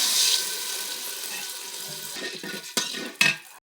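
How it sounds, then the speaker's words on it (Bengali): Water runs and splashes as it is poured into a pan of fried onions, a steady hiss for several seconds that ends with a few sharper clinks and splashes near the close. "পেঁয়াজটা যেহেতু ভাজা হয়েছে একটু পানি দিয়ে দেই"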